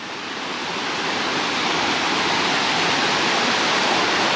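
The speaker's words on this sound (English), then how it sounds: "You can see that creek's moving pretty good." A fast-running creek near the trail at the bottom of Glen Falls rushes in a loud, dense, steady wash of flowing water, close and continuous with no voices.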